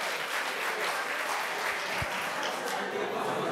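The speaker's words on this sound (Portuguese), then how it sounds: "palmas para essa fila" Steady applause from a seated audience at a talk on effective communication, a dense even patter of many hands clapping at moderate, fairly distant level, with no voices rising above it.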